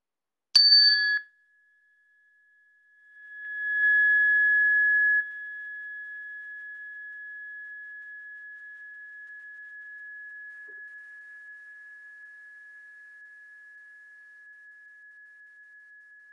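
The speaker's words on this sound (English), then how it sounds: "You can have your eyes closed when you can no longer hear the bell." A bell, likely a meditation bell used in a kids' yoga session, rings with a sharp strike, then a pure sustained tone swells and slowly fades away over many seconds into silence.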